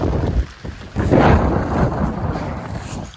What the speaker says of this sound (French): il vient de commencer à pleuvoir là